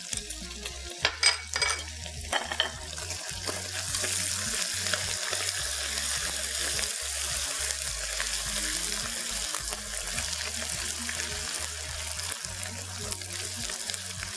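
Beef fries with garlic ginger paste for a Mianwali-style pulao, starting with a few sharp clatters and splashes, then settling into a long, steady, fairly loud sizzle.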